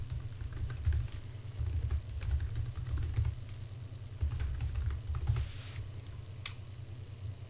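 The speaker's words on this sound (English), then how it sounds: "I'm gonna go ahead and type in my username and password." Username and password being typed on a computer keyboard, a steady run of quick close key clicks with a soft low background hum.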